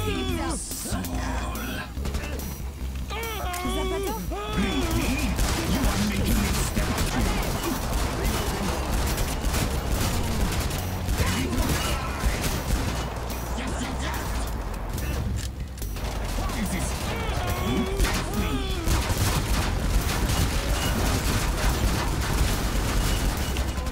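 Gunfire in the video game Killing Floor 2, dense and continuous bursts of shots with explosions and clanking over a busy game mix, steady and loud throughout for the whole stretch.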